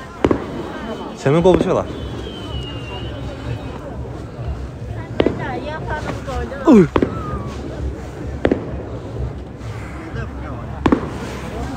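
Fireworks bursting outdoors during Chinese New Year, several sharp bangs and whistling rising streaks scattered through a noisy crowd, with people talking nearby over the popping.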